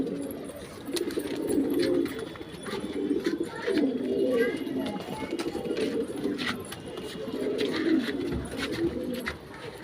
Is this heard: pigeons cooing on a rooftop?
yes